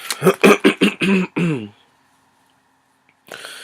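Several quick, harsh coughs come in a burst, then a short silence before a brief voice returns.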